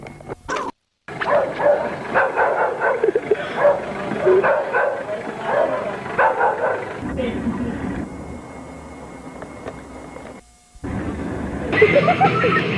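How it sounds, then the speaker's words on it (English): Dog barking incessantly on an old VHS tape recording: repeated barks and yips run through most of the stretch, mixed with tape noise and other voices, with an abrupt dropout near the start and another near the end. "The incessant dog barking"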